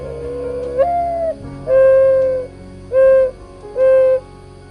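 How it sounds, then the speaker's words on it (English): A dove calls in a backyard with a series of four soft, hooting coos, each a sustained tonal note separated by short pauses, clear and fairly close. "Dove."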